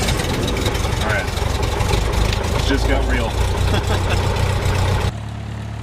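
A small propeller airplane engine starts and settles into a steady idle during a flight lesson at a community college airfield. The engine rumbles loud, close and continuous, and a voice speaks over it before the sound drops abruptly near the end.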